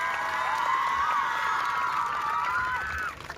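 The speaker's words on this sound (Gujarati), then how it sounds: "ફરીથી એકવાર જોરદાર તાળીઓનો ગડગડાટ થઈ જાય" A large crowd at an outdoor community gathering in Mahuva, Gujarat, cheering and whooping with high, sustained shouts over a bed of clapping, fading near the end.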